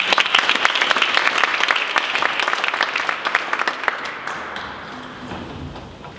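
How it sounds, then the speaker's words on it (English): Audience applause at an evening event on struggle songs and freedom, a dense wash of clapping that fills the hall, then thins and fades toward the end as a voice begins faintly. "Can we give them all a round of applause"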